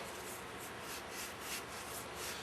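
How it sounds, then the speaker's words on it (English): A scuff pad rubs around the inside of a Meyer E 47 plow pump part in a steady, close, quiet back-and-forth scrubbing. "Take our scuff pad again, get it in there, work around."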